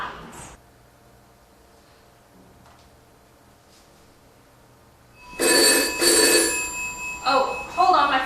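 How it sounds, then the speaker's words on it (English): A phone rings in bright electronic bursts after a few seconds of near silence, repeating loudly with short gaps. "Oh, hold on, my phone's ringing."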